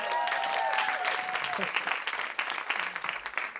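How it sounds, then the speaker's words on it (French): An audience applauding a guest as she is welcomed to the stage, steady clapping from many people with a brief tonal sound and some voices underneath early on. "Vous pouvez l'applaudir."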